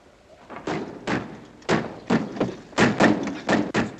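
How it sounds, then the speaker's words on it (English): A door is being locked in an English-language war drama, heard as a run of heavy wooden thumps and knocks, several in quick succession, loud and close, with no talking. "Dick, lock the door"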